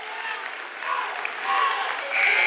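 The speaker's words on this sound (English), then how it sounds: "And they're already clapping he did his job" Teammates and crowd applaud at a Sparta vs Jefferson high school wrestling match, a rolling clatter of claps that swells in waves, with a voice talking over it.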